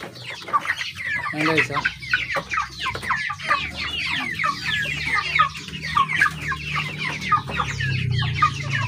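A flock of native chickens clucks and chatters steadily and close by, with layered calls overlapping throughout and a low hum underneath, while someone speaks briefly.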